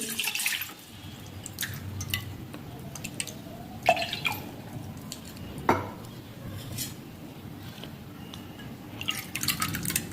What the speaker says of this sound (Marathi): ह्याच वाटीने आपल्याला आता सव्वा वाटी पाणी आणि सव्वा वाटी दूध घ्यायचं आहे